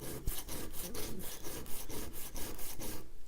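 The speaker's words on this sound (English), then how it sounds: "So what we're going to do is we're going to take our sandpaper right here" Sandpaper rubbed hard and fast across the edge of a fiberglass Zero-G stand to remove a burr, giving a close, steady run of about a dozen rhythmic scraping strokes with no talking.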